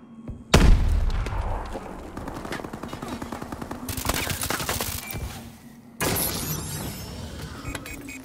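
A frag grenade bursts in an online Hardpoint match of Call of Duty: Advanced Warfare with a loud, sharp boom. Rapid automatic gunfire rattles on around it, and a second heavy burst follows later.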